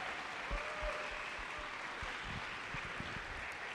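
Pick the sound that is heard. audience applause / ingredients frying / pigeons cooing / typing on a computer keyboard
audience applause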